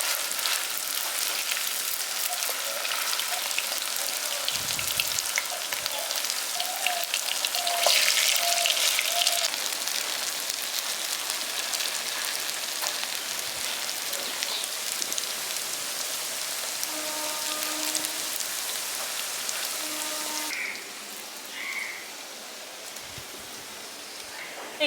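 Chicken and potato kebabs sizzle in hot oil, a steady crackling hiss that goes on for the whole stretch, with a few soft clinks as pieces are turned over and the frying eases slightly near the end.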